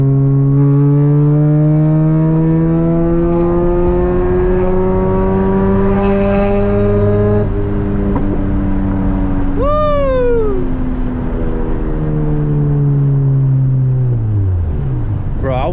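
A Mazda RX-8 on new wheels drives and accelerates, its engine note climbing steadily in long rising sweeps, loud and close throughout, with a sharp squeal near the middle and the revs dropping and climbing again toward the end.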